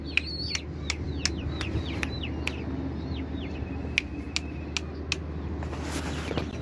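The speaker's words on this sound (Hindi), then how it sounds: "मैं अभी आपको दिखा देता हूँ हमारी न्यू मुर्गी, असील मुर्गी" Outdoor bird calls from a yard holding a young Aseel chicken: repeated sharp chirps and short downward calls over a steady low background hum, fairly close, with no talking.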